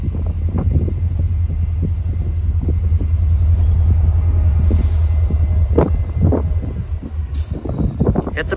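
A lone Norfolk Southern EMD SD40-2 locomotive rumbles past with a deep, steady diesel drone, loud and near, joined by clanking wheel knocks and brief higher squeals toward the end.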